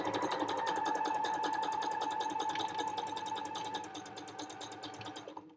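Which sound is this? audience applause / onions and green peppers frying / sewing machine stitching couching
sewing machine stitching couching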